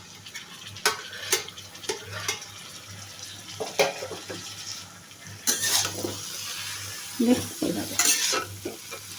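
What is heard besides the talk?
stirring cabbage with tangra fish in pan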